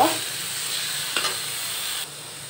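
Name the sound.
frying shrimp with pointed gourd peels and coriander leaves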